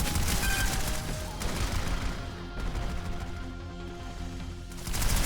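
A Spitfire automated turret in the game Planetside 2 fires rapid, loud bursts of gunfire, sustained volleys with brief lulls and a renewed burst at the end.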